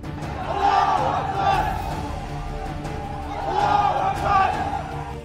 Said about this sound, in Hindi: भीड़ अल्लाह के नारे लगा रही है